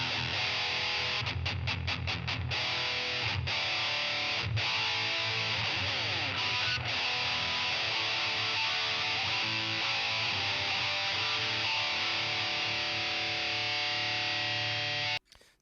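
Electric guitar through a twenty-year-old Boss MT-2 distortion pedal: a few choppy muted strums, then sustained heavily distorted chords ringing loud and thick before cutting off abruptly at the end.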